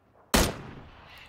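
A single loud gunshot from a video game shooter, a sharp close blast followed by a fading reverberant tail.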